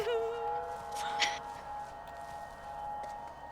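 A monster in a video game gives a sustained, siren-like tonal wail that holds steady for several seconds, with a short sharp burst partway through, moderately loud over faint background noise.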